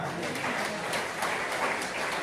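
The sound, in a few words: congregation applauding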